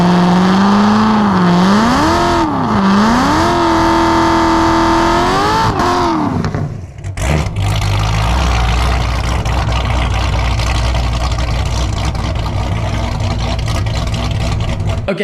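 A supercharged Corvette ZR1 engine revs loudly up and down through its exhaust with a whining, rising and falling pitch, then settles into a steady, rough, powerful drone close by.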